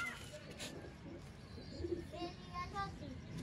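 A pure-bred pigeon from a breeder's loft coos softly several times in the second half, while faint talk and background noise carry on throughout.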